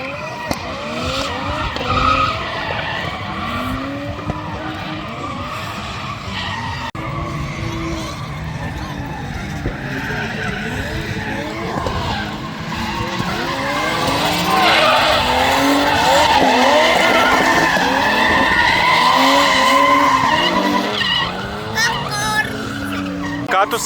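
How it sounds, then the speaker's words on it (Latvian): Drift cars sliding sideways at a motorsport event in Jelgava, tires squealing and skidding in repeated sweeping wails over growling engines, getting louder midway, with voices talking underneath. "Šitais ir drifts, redzi? Ka mašīnām aizmugures iet slīpi."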